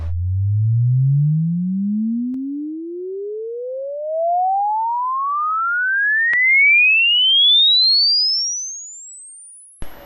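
A pure sine test tone sweeps steadily upward from a low hum to a very high whistle over about ten seconds, played alone at a constant moderate level for recording a guitar impulse response, with a brief click at the end.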